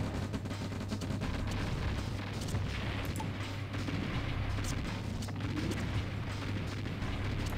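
Rumbling artillery fire and explosions pounding Tesla coils in the Command & Conquer: Red Alert video game, a dense continuous barrage of booms and crackling blasts that stays loud throughout with no pauses.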